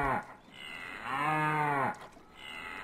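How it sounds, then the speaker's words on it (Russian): A cow in the video game Rusty Lake: Paradise moos when poked on the nose, giving one loud, sustained low moo in the middle, framed by shorter, softer lowing at the start and end. "Например, корову можно потыркать за нос."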